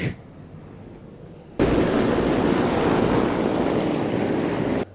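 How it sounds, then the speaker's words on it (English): Loud, steady broadband rotor and engine roar from Apache helicopters landing at an Ethiopian Air Force 90th anniversary event, starting abruptly after a quieter opening and holding continuously close by. "Apache helicopters now landing."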